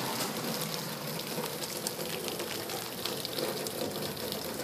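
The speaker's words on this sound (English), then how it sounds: "We got the water coming sideways out the side of the downspout." Rainwater gushes sideways out of the side of a building downspout at the back of a building, a steady, dense broadband rush that holds constant throughout, close and fairly loud with no voices.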